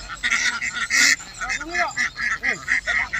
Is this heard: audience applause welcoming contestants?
no